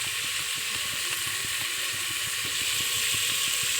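Asafoetida (hing) sizzling in hot oil while cooking, a steady bright hiss of frying that runs on without a break, close and moderately loud, with no talk over it.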